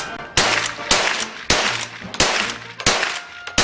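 Winchester rifle gunfire at a cowboy action shooting match: six loud, close shots about half a second apart, each a sharp crack with a ringing tail, with no talking.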